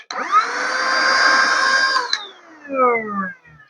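A GXZSK handheld vacuum cleaner switches on and whines steadily at close range for about two seconds, then cuts off, its motor pitch falling as it spins down.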